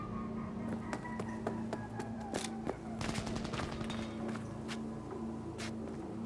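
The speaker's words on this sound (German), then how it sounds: "Das ist wirklich Schüsse." Gunfire in the video game Cyberpunk 2077, a string of sharp shots scattered irregularly over a steady background hum, fairly quiet and distant-sounding, with no talk over it.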